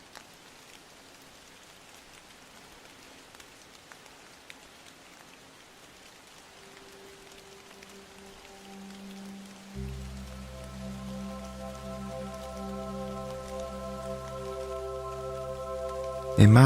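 Steady rain falling on a quiet day in an Alaskan town, a soft continuous patter that persists as low sustained music swells in and builds louder toward the end.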